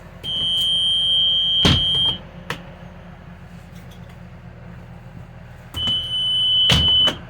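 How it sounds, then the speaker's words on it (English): A bus emergency exit window alarm sounds a shrill, steady electronic tone twice, each burst lasting about two seconds, loud and close, with clunks and quiet background in between. "they open and close smoothly and the alarm sounds"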